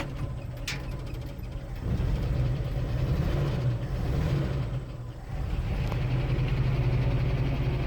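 A 1976 postal Jeep with a Chrysler transmission, revived after years parked in the woods, runs with a steady low engine rumble that rises slightly as it is put into drive, close and continuous.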